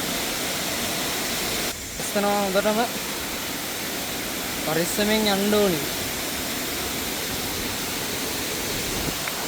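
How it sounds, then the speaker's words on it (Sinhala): Nalagana Ella waterfall gives a steady, broad rush of falling water that fills the whole scene, with voices talking over it in two short bursts. "මේ තියෙන ඔය සුන්දර නලගන ඇල්ල."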